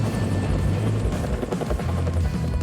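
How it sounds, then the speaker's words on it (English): Helicopter hovering over a wireless tower construction site while lifting tower frames on a line, a loud, steady rotor thump and turbine roar that holds near and constant throughout. "The chopper brings its line over to the pick zone"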